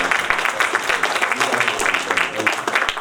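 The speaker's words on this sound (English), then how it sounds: "I just want to add one more time to big rounds of applause." Audience applause after speakers at a policy dialogue session, a dense, continuous patter of many hands clapping at moderate loudness.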